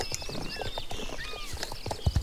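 Horse hooves clip-clopping at a run in the online riding game Star Stable Online, a quick steady patter with chirpy game tones over it.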